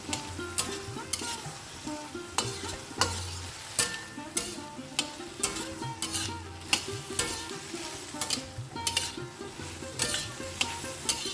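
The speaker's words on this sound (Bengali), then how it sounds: "ভালো করে কিছুক্ষণ কষিয়ে নেবো" Sago and moong dal frying in a pan with salt and turmeric, a soft continuous sizzle with rhythmic spatula scrapes and knocks against the pan every half second or so, close and alone.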